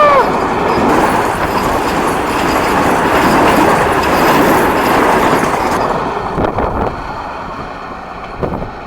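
Vande Bharat express train rushes past on the Konkan route between Mumbai and Goa, a loud close roar of wheels with wind buffeting, fading toward the end with a few clanks.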